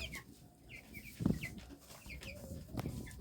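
About twenty 17-day-old chicks in a room floored with straw over lime give soft clucks and high chirps, scattered and overlapping at close range, with a few louder calls.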